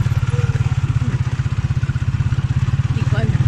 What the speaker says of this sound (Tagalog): May motor sa likod natin.